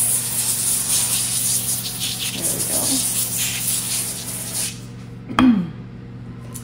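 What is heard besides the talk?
avocado oil spray greasing parchment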